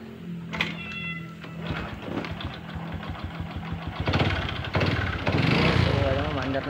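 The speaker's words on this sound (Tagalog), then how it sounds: "maandar na yung ating motor" A motorcycle engine runs close by at dusk, a steady low idle throughout that swells louder toward the end, with a cat meowing briefly near the start.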